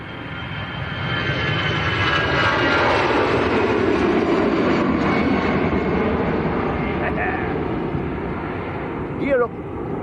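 EasyJet airliner bound for Belfast taking off from Manchester Airport, a loud broad engine roar that builds and holds before easing, with a voice talking over it and a short chirp near the end.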